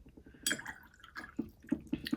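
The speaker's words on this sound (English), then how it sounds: "we're washing it off" A paintbrush swished and tapped in a water jar while watercolour painting, giving light watery sloshes, drips and a few glassy clinks near the microphone, with no voices.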